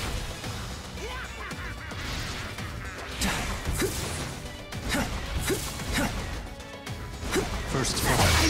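Sword attack called Thunderclap and Flash from Demon Slayer: The Hinokami Chronicles: rapid swooshing slashes and crashing impacts repeat over continuous battle noise, with a voice shouting throughout.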